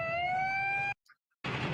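A rising, steady electronic siren wails at a karting track as a start warning. It sounds for almost a second, cuts off abruptly, and a brief burst of broadband noise follows.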